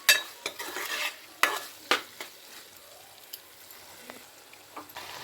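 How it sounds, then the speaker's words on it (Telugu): Broad beans tipped into a pan of tomato curry as it cooks, with a soft sizzle under a few sharp clatters and scrapes of a spoon stirring against the pan, close up, and no one speaking. "ఇప్పుడైతే నేను చిక్కుడుకాయ వేస్తాను."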